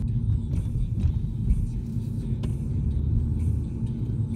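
A car interior rumbles while driving, a steady low road and engine drone with faint bumps and a few soft clicks. There is no speech.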